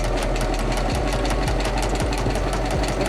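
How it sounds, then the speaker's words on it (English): A sewing machine runs straight stitches along the edges of fabric wristbands for a cosplay costume, giving a steady, close mechanical whir with a rapid repeating clatter and faint periodic thumps throughout. "Straight stitching the wristbands or the edges to make sure they're nice and even"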